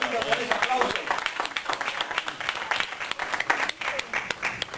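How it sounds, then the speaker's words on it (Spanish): Church congregation applauding during a Sunday sermon, scattered uneven clapping rising and falling over several seconds, moderately loud, with some voices mixed in. "por favor, ayude a Martica con ese aplauso."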